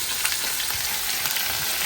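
Onions sizzle loudly in a hot pan after cut cauliflower and potato go in. The frying hiss is dense and continuous, with faint stirring scrapes and no voices.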